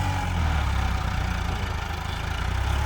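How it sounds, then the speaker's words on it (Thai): The diesel engine of a Kubota MU5702 57-horsepower tractor pushing soil in Suphan Buri, Thailand, drones steadily and loudly, with a low rumble and a faint knocking texture and no voices. "ตอนนี้ก็ กำลังขับดันเกียร์กองดินออกนะครับ รถไถที่เห็นอยู่ก็เป็น MU 5702นะครับ ของคูโบต้านะครับ"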